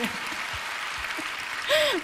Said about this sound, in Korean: 여기서도 박수를 받네요